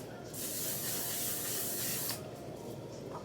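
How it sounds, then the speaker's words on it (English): Makeup setting spray misted onto a face, one continuous close aerosol hiss lasting nearly two seconds, then quiet room sound. "I'm gonna use a little bit of setting spray."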